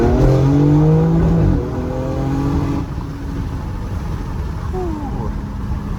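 BMW X4M with the S58 engine and a flex fuel kit accelerating hard, a loud sporty exhaust note climbing through the revs, then dropping at gear changes into a lower drone, with a voice talking over it.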